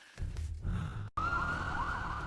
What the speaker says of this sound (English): Sirens are on.